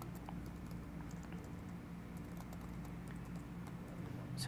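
Quiet, steady keystrokes on a computer keyboard, typing continuously at an even rhythm with no talking.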